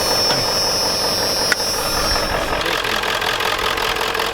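An old Ford 7.3L diesel truck engine idles with a rough, uneven, shaky rumble up close, a brief clunk partway through and a high whine fading out.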